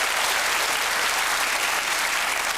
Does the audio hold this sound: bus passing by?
no